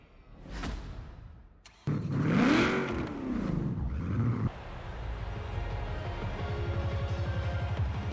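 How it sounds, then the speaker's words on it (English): Hoonigan Ford Bronco engine in the racing game Forza Horizon 4, a loud rev that climbs and falls after a short whoosh, then settles into a steady, buzzing drone at a constant pitch. "here we are with the Bronco outside and you can hear the engine now"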